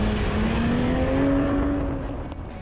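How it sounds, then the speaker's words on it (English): Engine of a 2021 Toyota Supra revving loudly up close, a rising then steady tone with a strong harmonic whine before the sound eases off toward the end. "The engine sounds great."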